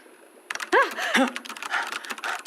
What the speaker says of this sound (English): It's typing by itself.